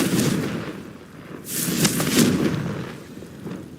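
Blasting Confringo spell in the Hogwarts Legacy video game, a few sharp fiery bursts and crackling impacts in quick succession over a low rumbling background, fairly loud and close.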